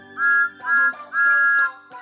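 Three sustained whistle blasts sound close and clear, with short gaps between them and a brief fourth toot at the end.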